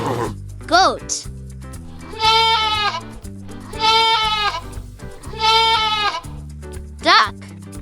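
Goat bleating in three long, wavering, nasal calls, loud and close, over a bouncy children's music backing, with short cartoonish voice sounds before and after.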